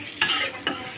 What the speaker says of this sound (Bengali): এবার নেড়ে চেড়ে রান্না করে নেব।